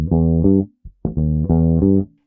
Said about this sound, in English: The next thing we're going to look at is the 4-note phrase right in the middle of the second bar